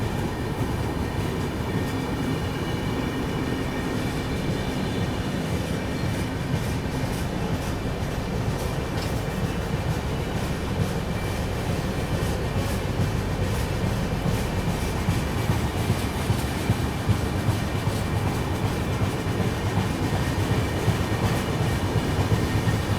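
The New Delhi–Patna special train picks up speed, with a steady, loud rail rumble and faint wheel clatter running continuously with no voices.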